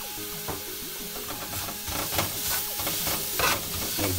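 Alamang shrimp paste sautéed in a pan for coconut-milk pinakbet: a steady, close sizzle with scraping stir strokes throughout, no voices.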